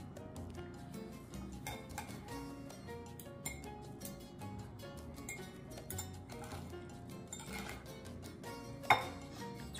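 Citrus zest is grated on a microplane, producing faint, close, rapid scraping strokes in a steady repeated rhythm.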